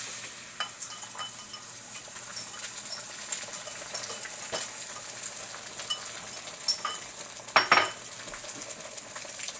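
Eggs sizzling steadily in a buttered pan while a rubber spatula scrapes and stirs around the edges, with light taps and one brief louder clatter, close and continuous without talk.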